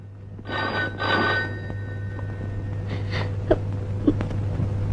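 A telephone rings twice in quick electronic bursts, followed by fainter ringing and a couple of sharp clicks over a steady low hum.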